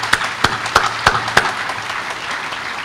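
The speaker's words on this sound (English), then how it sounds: "How about another round of applause for the Color Guard and the AMC Band today?" Sparse applause at a US Army change of command ceremony honoring the Color Guard and the AMC Band: about five sharp, separated claps ring out over a low hum before the sound fades into a quiet room.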